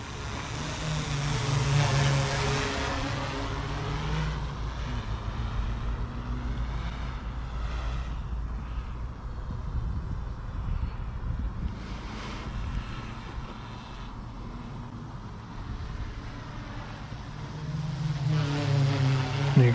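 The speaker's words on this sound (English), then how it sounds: "it's not very loud for a big drone." A large DJI Inspire 1 quadcopter flies outdoors at sundown, giving a steady, fairly quiet rotor whir with a low hum that holds throughout and swells slightly near the start and end, mixed with some wind rumble.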